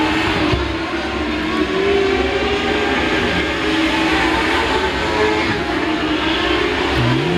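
Modlite race cars racing around a speedway track, producing a loud continuous engine roar that swells and fades slightly as the pack passes, with no talk audible over it.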